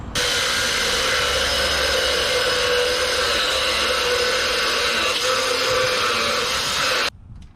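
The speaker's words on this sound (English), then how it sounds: "we'll cut about a 10-inch piece out of that lip so we can drop our board in there" A power tool cuts a roughly ten-inch piece out of the lip of a utility trailer, a loud, steady, close whine running about seven seconds before stopping abruptly.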